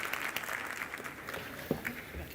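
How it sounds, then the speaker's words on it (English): An audience applauds a panel at a private sector forum, with steady, faint clapping from a room full of people and a few louder claps near the end. "let us all thank this panel with a round of applause"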